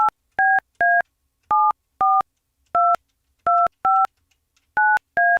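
Telephone keypad dialing tones: ten crisp two-pitch beeps, each short and evenly loud, spaced irregularly with silent gaps between them.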